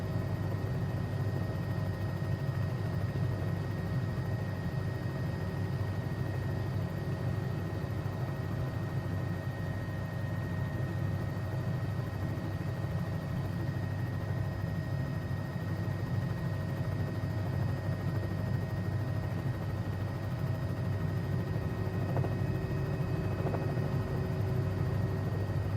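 A Bell 206B3 helicopter in a flight simulator game flies near Wickenby, a steady, even rotor and turbine drone holding constant throughout with no talk.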